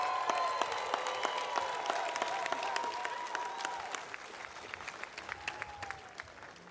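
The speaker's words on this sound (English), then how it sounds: "let's have another round of applause for Ms. Nicole Ineru" A graduation audience at a Touro class of 2021 ceremony bursts into steady applause that gradually thins into scattered individual claps, with faint voices underneath.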